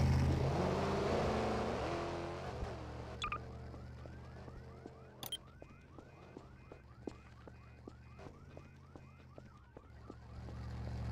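A car alarm sounds in repeated rapid chirping pulses at moderate distance after an engine fades out, the beeps continuing in a steady pattern for several seconds.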